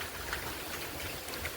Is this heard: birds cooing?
no